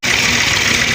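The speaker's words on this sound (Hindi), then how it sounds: "आज ट्रैक्टर चला रहा हूँ," A tractor engine drones loudly and steadily at close range on a village road, a constant rumbling run with no talking.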